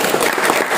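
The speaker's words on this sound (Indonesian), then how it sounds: "tepuk tangan sekali lagi buat kelompok." A group in a classroom claps together in a short, dense burst of applause that fills the whole moment at a steady, fairly loud level.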